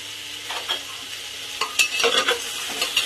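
Chicken being stirred with vegetables in a pan for a chicken stew, a soft sizzle beneath repeated spoon scrapes and clatter that grow busier and louder in the second half.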